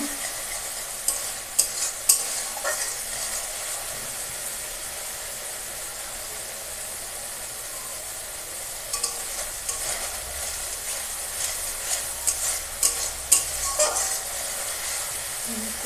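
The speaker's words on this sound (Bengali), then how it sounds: "সামান্য হলুদ দেবো কষিয়ে নেবো একটু মশলাটাকে কষাচ্ছি অল্পই কষাবো" A mustard and green chili masala with turmeric sautés in a pan for a hilsa fish dish, hissing and sizzling steadily while a spatula scrapes and stirs it in repeated close strokes, with no talking.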